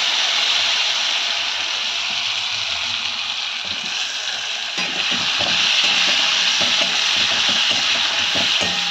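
Cubes of elephant foot yam frying with turmeric and cumin seeds in hot oil, a loud steady sizzle with faint scraping of a spoon stirring through the pan.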